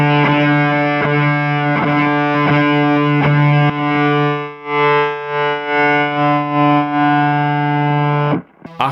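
An electric guitar runs through chained distortion pedals, sounding thick, sustained, heavily driven chords with repeated strums, then a pause, a lighter stretch and a final sharp hit before it cuts off.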